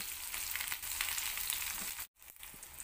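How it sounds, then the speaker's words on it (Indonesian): Steady, dense sizzling of eggplant frying in plenty of hot oil, crackling continuously before a brief cut and then resuming. "Goreng terong hingga matang."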